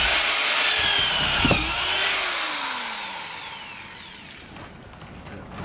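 A power drill whines close up, its pitch sliding down as it bores bolt holes through wood on a wooden boat frame, then winding off and leaving quiet room noise.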